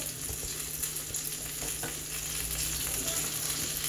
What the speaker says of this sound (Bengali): এই যেগুলো ইটালিয়ান মাছ, এটা শুধু এভাবে ভাজি করে নিলে